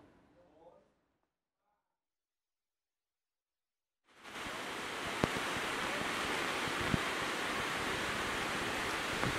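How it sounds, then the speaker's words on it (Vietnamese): Typhoon-driven wind and surf at the seafront in Sam Son, Thanh Hoa, roar steadily after a brief pause, a loud continuous wash of wind buffeting the microphone with breaking waves beneath, following a short stretch of speech. "bão số 4 đang đổ bộ vào tỉnh Thanh Hóa và gây mưa to gió mạnh"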